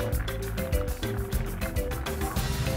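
Flattened glutinous rice dough for masi, a sweet from Ormoc, is dropped into a pot of boiling water, which bubbles and gurgles loudly and continuously with small splashes close by.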